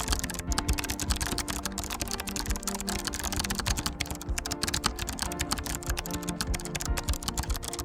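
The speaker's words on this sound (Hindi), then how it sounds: "ये ऑलरेडी मैंने इधर एक कीबोर्ड का साउंड इफेक्ट डाउनलोड किया हुआ है" Computer keyboard typing sound effect: rapid, continuous keystrokes clattering for several seconds, close and fairly loud, with no voices.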